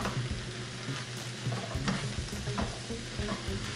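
A spoon stirs chopped tomato into a sizzling stacked-enchilada mixture in a hot pan, giving close, continuous scraping strokes over a steady frying crackle.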